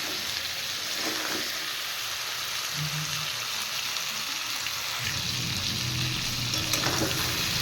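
Crab pieces fry in hot oil with turmeric, giving a steady, loud sizzle that continues without break and has no speech over it.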